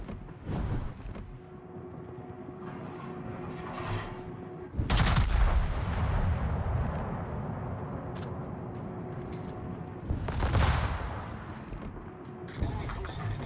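Heavy naval guns booming in a warship battle video game, two big blasts a few seconds apart over steady engine and battle rumble, loud and close.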